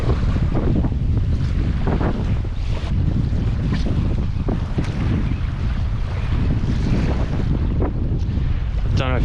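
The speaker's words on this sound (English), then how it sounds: "That wind is ripping through." Strong sea breeze gusting beside the Swan River, roaring and buffeting loudly against the microphone in a constant rush with surging gusts.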